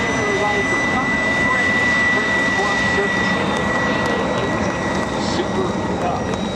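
A Super Cub airplane flies an air show routine, a steady far-off engine drone with a continuous whine carried over crowd ambience while an announcer talks over it.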